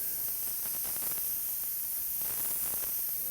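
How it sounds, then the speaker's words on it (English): A spray gun laying a light, dry base coat of candy red paint, a steady airy hiss with faint hum, close and even for the whole stretch. "we'll come in and very lightly do the light base coat on here and spray dry it"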